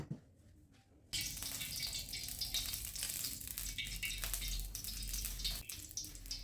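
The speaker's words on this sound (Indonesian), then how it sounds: "Digoreng aja langsung semuanya" Nasi goreng ingredients hit a hot pan on a home stove, setting off a sudden, loud, continuous sizzle that follows a quiet pause and carries on alone.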